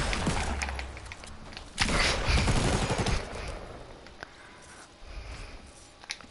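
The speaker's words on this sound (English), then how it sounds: "That is my egg launcher." An egg launcher firing in a video game, a burst of rapid thumping shots with a heavier flurry in the middle, then quieter scattered pops.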